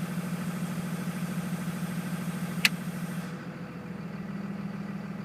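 A 2001 Dodge Ram 2500 Cummins diesel 4x4 with a six-speed idles at a steady low drone. A sharp click is followed by the exhaust brake engaging, which dulls and deepens the idle tone.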